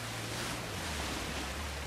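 Rushing white water waves churn around a vehicle driven through water in the video game Uncharted 4, a steady broadband roar with low rumble throughout, no voices.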